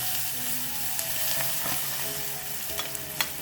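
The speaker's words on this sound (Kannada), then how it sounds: "ಸೊ ಚೆನ್ನಾಗಿ ಎಣ್ಣೆ ಬಿಸಿ ಆಯ್ತಂದ್ರೆ ಒಗ್ಗರಣೆನೂ ಕೂಡ ನಾವು ಈ ತರ ಹಾಕೋಬಹುದು." Dry chilli, turmeric and garlic crackle and sizzle in hot oil as a tempering, a steady close frying hiss broken by a few sharp pops and spatters, with no voices.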